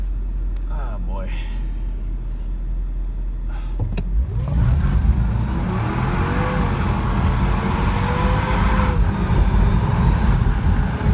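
A Mercedes W164 ML with a swapped M113K supercharged engine accelerating hard: quiet idle, then a sudden loud roaring pull with rising engine pitch that sustains to the end, heard from inside with voices present.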